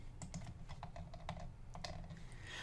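Typing on a computer keyboard, a quick irregular patter of close key clicks over a low background hum, with no voices.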